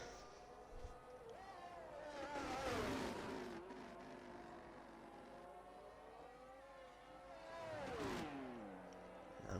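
A Williams Formula 1 car in an F1 video game, racing at the Bahrain circuit, passes twice with a high whining engine note that sweeps down in pitch each time, faint and distant against a low background.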